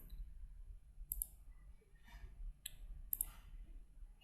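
Mouse clicks on a computer in a software tutorial, four sharp isolated clicks spaced about a second apart over a quiet background.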